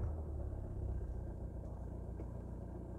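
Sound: car engine running after being started

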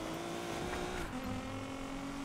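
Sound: car drifting in Need For Speed Payback video game

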